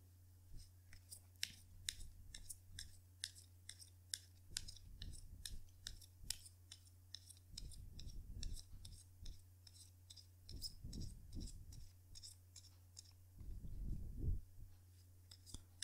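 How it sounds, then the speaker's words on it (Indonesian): Tarot cards being shuffled, a run of soft crisp riffling clicks up close and faint, with low rumbling handling noise in short bursts. "Jadi sebentar ya kartunya dikocok dulu sebelum kita mulai."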